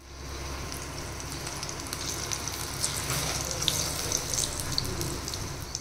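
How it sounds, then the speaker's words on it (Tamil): Mushrooms frying in hot oil, a steady, soft sizzling hiss with faint crackles and spits, continuous and fairly quiet throughout with no voices. "இப்போ அதை எடுத்து வந்து ஹாட்டான ஆயிலில் போட்டு பொரிச்சு எடுத்தோம் அப்படின்னா சூப்பரான மஷ்ரூம் ஃப்ரை வந்து ரெடி ஆயிடும்."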